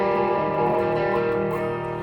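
Electric guitar with the neck pickup and all controls maxed and the bridge pickup rolled back, giving a softer tone: a sustained, slightly distorted chord ringing steadily and alone, with some effects-like shimmer.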